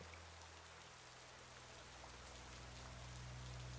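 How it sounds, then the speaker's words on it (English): Steady rain falls on a surface, a soft continuous hiss of drops under a low droning hum, gentle and even throughout with no voices. "the sound of rain lulls you sweetly into a deep sleep"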